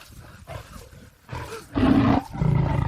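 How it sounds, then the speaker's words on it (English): A lion roars in a synthetic, computer-generated scene, delivering several loud, deep bursts in a row with the later roars heaviest and most sustained, and no talk over them. "Guys, I've got a lion following me."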